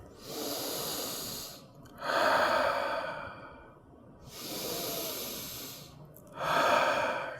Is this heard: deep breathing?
yes